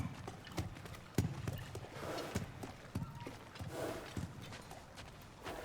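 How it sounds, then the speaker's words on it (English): In the God of War Ragnarok video game, a horse's hooves clop in an irregular walking rhythm, close and fairly clear, with soft snorts and ambient rustling around them. "Easy, girl, easy."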